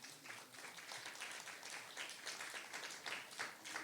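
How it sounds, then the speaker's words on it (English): Audience at an apprenticeship music recital applauds steadily for about four seconds, a fairly faint, even wash of many hands clapping with no voices over it. "So please give them a round of applause."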